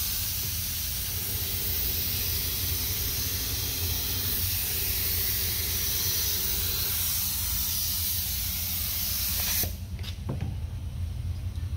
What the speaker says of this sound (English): now we're just going to spray the activator and then get it activated